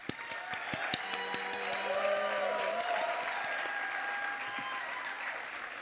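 Audience applause at a school gathering, a steady mass of clapping hands with some sharp individual claps up front and a tonal hum in the background, fairly faint.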